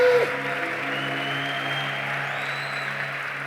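Applause from a church congregation during a French-language service, a steady wash of clapping filling the room and continuing evenly throughout.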